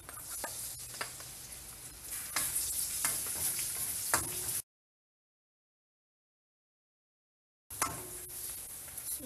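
Garlic sautés in a pan with a steady close sizzle and occasional utensil stirring scrapes; the sound cuts out to silence partway through, then the sizzle resumes.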